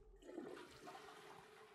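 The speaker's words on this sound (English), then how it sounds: "That's the flush." A toilet flushing in the video game Prey (2017), a brief whoosh of rushing water that swells and then drains away at moderate volume.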